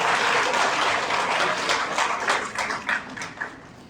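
Audience applause at an awards ceremony in a hotel hall in Hyderabad, Sindh: loud, full clapping at first that thins into scattered, separate claps and fades toward the end.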